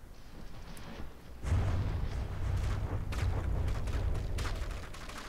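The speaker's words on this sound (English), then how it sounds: "Lots of explosions," Deep rumbling explosions from a naval ship battle in a game, starting after a quieter stretch, followed by sustained booming and layered crackling blasts that roll on loud and continuous to the end, with no voices.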